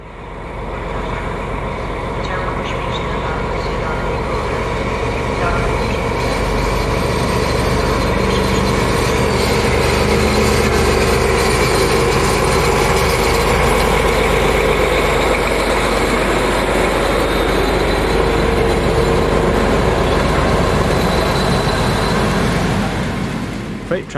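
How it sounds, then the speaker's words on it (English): SU45 diesel locomotive passing, a loud, sustained engine rumble that holds steady and close, with a continuous deep drone and clattering texture throughout. "Diesels also make an appearance here, such as this SU45."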